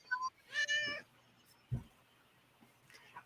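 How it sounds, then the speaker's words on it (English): A cat meows close by behind a computer screen, two clear harmonic meows early on, then a quieter call near the end, with a brief low bump between and no talking. "There is a cat directly behind my screen."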